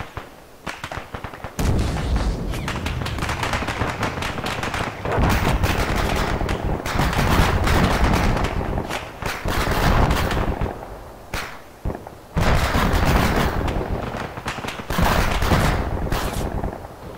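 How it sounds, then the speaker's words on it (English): Military simulation ArmA battle with heavy bursts of rifle and machine-gun fire and booming rocket blasts, loud and near, coming in long clusters separated by brief lulls. "Rocket."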